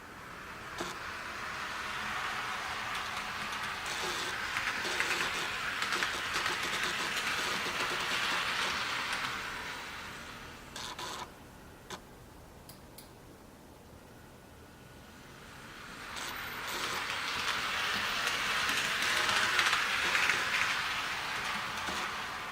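Piko BR103 model locomotive fitted with an ESU V4 sound decoder runs along the track, giving a soft, hissing, rushing run noise that fades to a low murmur midway, then swells back up.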